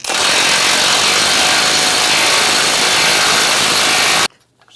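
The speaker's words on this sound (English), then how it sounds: "Using a 24mm socket, take this nut off" A powered tool with a 24mm socket spins a nut off the front steering knuckle of a 2011-2018 Ram 1500, a loud, harsh, unbroken whirring burst lasting about four seconds before cutting off abruptly.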